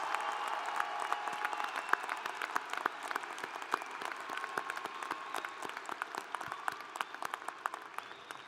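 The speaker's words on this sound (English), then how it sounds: "let's give a big round of applause for these 2019 graduates" Sustained applause from a large audience honoring 2019 graduates at a spring commencement ceremony, dense steady clapping throughout with no talk over it.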